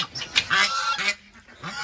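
Large ducks honk loudly and repeatedly at close range, harsh nasal calls overlapping in quick succession for a couple of seconds.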